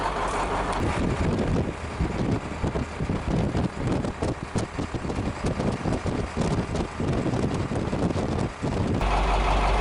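A 1956 Studebaker Golden Hawk drives down the road in third gear, its engine rumbling steadily beneath heavy, continuous wind noise for the whole stretch, with no voices.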